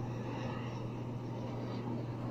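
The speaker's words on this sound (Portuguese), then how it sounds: "Avião passando, maravilhoso" An airplane passes overhead, heard as a steady, broad engine rumble and hum that stays even and moderately loud throughout, with no talking.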